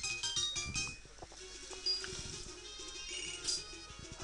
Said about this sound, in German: Angelo hat angerufen